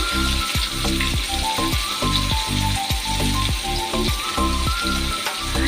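Cashews, green chillies and tomato frying in hot oil for shahi paneer, a steady loud sizzle with crackling bursts and repeated scraping strokes of a spatula stirring the pan throughout.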